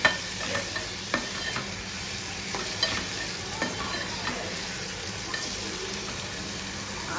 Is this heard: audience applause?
no